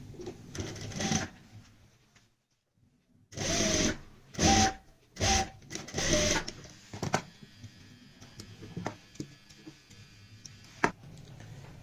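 A sewing machine stitches the back of a halter neck blouse in several loud runs of rapid whirring, separated by pauses, after which lighter handling clicks and small knocks follow.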